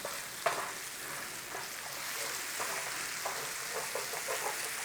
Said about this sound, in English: so just stir it in.